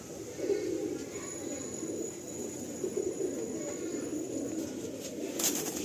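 Pigeons in a loft coo continuously in a low, dense murmur, with many birds overlapping over steady background hum and a faint high tone.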